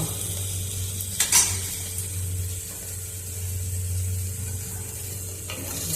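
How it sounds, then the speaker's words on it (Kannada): Cumin seeds frying in oil in a pressure cooker for jeera rice give a steady, soft sizzle over a low hum, with a brief clatter of stirring near the start and no talking. "ಜೀರಿಗೆ ಹಾಕಿ ಸ್ವಲ್ಪ ಹಸಿ ವಾಸನೆ ಹೋಗೋವರೆಗೆ ಫ್ರೈ ಮಾಡುವ"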